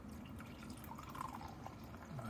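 Rochefort Trappist beer pours from a bottle into a glass, a steady liquid splashing and trickling stream that runs continuously and alone at moderate loudness.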